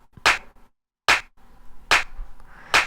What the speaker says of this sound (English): It's like a Lindrum style clap.